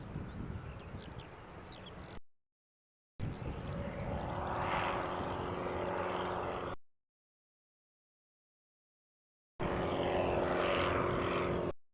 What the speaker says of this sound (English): This aircraft is 352 going to Wellington.